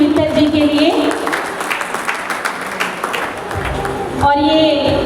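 Applause from the audience at a Lions Club award ceremony honoring disabled people and journalists, a steady dense patter of clapping that carries on for several seconds over background music and a speaking voice.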